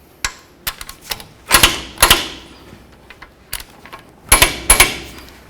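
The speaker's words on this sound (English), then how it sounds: "Torque these down to 103 foot-pounds." A torque wrench tightening lower control arm bolts on a 2003–2009 Toyota 4Runner, giving loud, close ratcheting clicks in quick bursts separated by short pauses.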